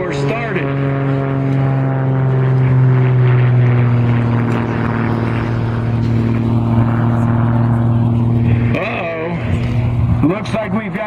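Propeller-driven aerobatic airplane of a pre-war European contest design flying at a World War II weekend event, a loud steady engine drone with shifting pitch throughout, a commentator talking over it.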